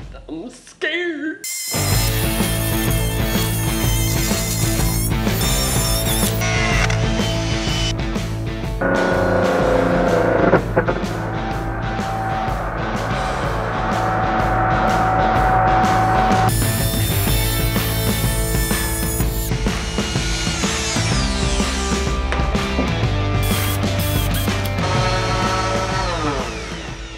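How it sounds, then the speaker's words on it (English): A loud, high-pitched router with a flush trim bit whines steadily for most of the time as it cuts wood, pausing and restarting, with shifting tones as it cuts. "I'm gonna use a flush trim router bit to make them mirror each other"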